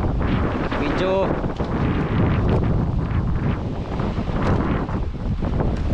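Strong wind at sea buffets the microphone in a steady roar, with a faint high tone briefly audible and no clear talk.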